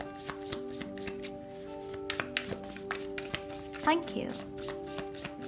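Tarot cards are shuffled by hand in a rapid, soft, close riffling patter that runs throughout, while someone talks over it.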